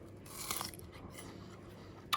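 A crunchy bite into a fragrant pear, one crisp crackling crunch followed by faint juicy chewing, close but quiet, with a small sharp sound at the very end.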